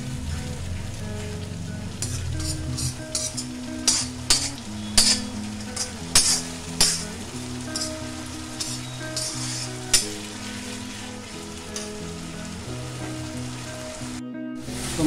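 Masala with capsicum frying in a pan for a soya chunk dish, with a steady sizzle and rhythmic spatula clinks and scrapes over a tonal background hum. The sound cuts out briefly near the end.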